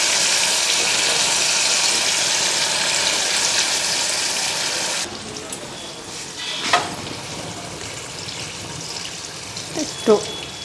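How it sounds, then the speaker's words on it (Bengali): Loud, steady frying in a wok is cut off as bowl-rinsing water is poured in, leaving softer bubbling and a few light clinks and scrapes nearby. "বাটি ধুয়া জলটা দিয়া দিই"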